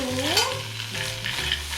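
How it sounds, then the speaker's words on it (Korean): Clams stir-fried in a pan over high heat, a brief close sizzle with stirring clatter, and a whistling tone rising at the start. "센 불로 조개를 넣고요. 먼저 이걸 볶아줄게요."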